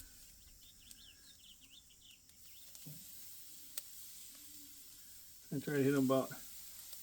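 Steaks sizzle on a Weber charcoal grill at a farm as a faint, steady hiss in the background, with someone briefly talking near the end.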